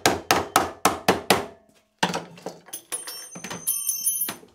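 Hammer striking sheet metal tabs to bend them over on a heat treatment oven build, a quick run of six sharp evenly spaced blows, then lighter clanks and metallic ringing.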